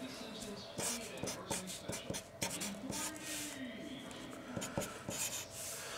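A chunky blue marker squeaks and scratches across a surface in short strokes and taps, close and fairly quiet, writing out numbers in a quick, irregular rhythm.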